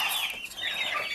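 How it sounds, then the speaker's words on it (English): Chickens and a rooster in a backyard flock cluck and chatter in a busy, overlapping stream of calls, fairly close and continuous, with no talking. "You can hear him, right? The rooster might be crowing."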